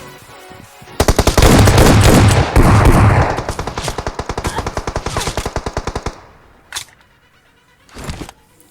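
Close, loud automatic gunfire in the video game PUBG Mobile: a dense, rapid burst gives way to a long string of evenly spaced shots, then stops, with a couple of isolated louder shots afterward.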